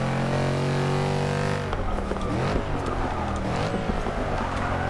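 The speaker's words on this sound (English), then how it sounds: "The car just wants to start spinning its wheels crazy." A BMW M4 race car at Spa spins its wheels under full throttle, a loud, close engine drone that breaks into rapid, rising revs and rattling tire scrabble.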